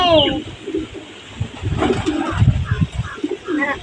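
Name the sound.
pigeons cooing at home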